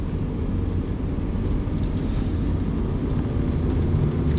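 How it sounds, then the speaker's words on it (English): A 2016 Kia Picanto Dynamic/Colorline engine hums low and steady from inside the cabin while driving, a constant muted drone with road rumble and no talking. "You hear that the engine is very quiet."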